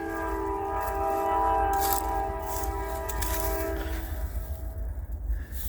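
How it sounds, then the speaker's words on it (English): A train rumbles past close by, its horn blaring in long sustained chords before fading, leaving the clatter of rolling wagons. "Sorry for the train, guys. I'm right next to a railroad track."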